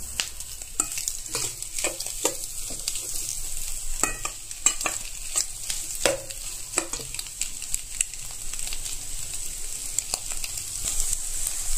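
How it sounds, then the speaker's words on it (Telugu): A spatula stirs egg and onions frying in a pan, giving a steady bright sizzle with repeated scraping and clinking strokes, close and continuous, with no talking. "అది కూడా కొంచెం ఫ్రై అయ్యే వరకు మనం అలా దాన్ని గరిటెతో ఇలా తిప్పుతూ ఉండాలి"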